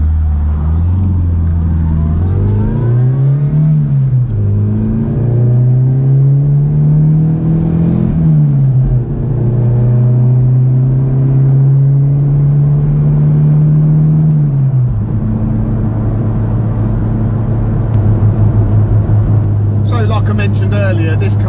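A car with a 2.76 to 1 differential cruises at 70 mph on a dual carriageway, a loud steady engine drone and road roar inside the cabin, its pitch shifting with a gear change, while someone talks throughout.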